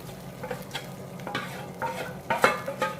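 Tamarind chutney is stirred in a pan with a spoon, a run of close scraping strokes at an uneven pace over a soft simmering sizzle, with occasional clinks against the pan.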